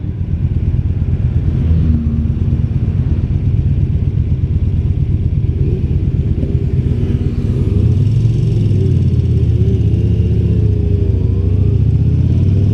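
A 2017 Yamaha V-Star Bolt R-Spec motorcycle rumbles loudly and steadily while being ridden, its deep engine drone shifting in pitch as it picks up speed, with wind noise and no voices.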